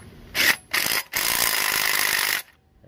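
A DeWalt power tool driving the mounting bolts of an LS engine into an engine stand, heard as two short loud bursts followed by a longer sustained run of ratcheting, whirring drive, close and alone.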